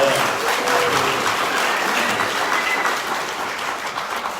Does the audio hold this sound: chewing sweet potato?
no